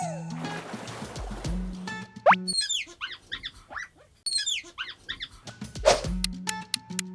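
A capuchin monkey gives a run of high, squeaky chirps and twitters in quick clusters, following a short swooshing chime at the start.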